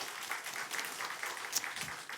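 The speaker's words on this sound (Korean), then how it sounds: "우리 박수로 서로 격려합시다." Brief, faint applause from a church congregation at a Christmas family worship service, a soft, distant patter of clapping hands lasting about two seconds.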